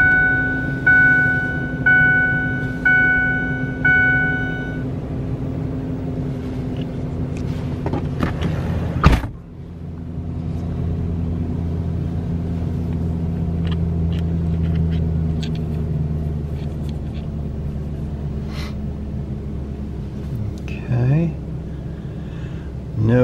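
A 2008 Ford F250 pickup with a trailer brake module sits while a chime dings in a repeating pattern, then the engine cranks with a sharp burst and settles into a steady idle rumble, with light clicks over it.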